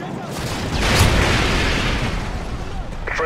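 A Predator missile strike in Call of Duty: Modern Warfare 3 sounds as one broad, loud boom that rolls on as a long rumbling roar with no sharp onset, while game noise carries on around it.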